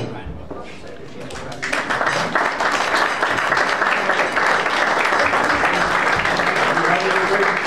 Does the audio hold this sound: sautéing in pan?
no